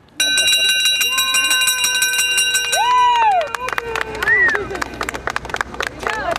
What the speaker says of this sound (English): with the sound of a bell